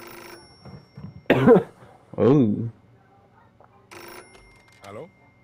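A telephone rings in the game Far Cry 6, a short ringing burst with a pause and then more ringing, mixed with a voice speaking in the clip.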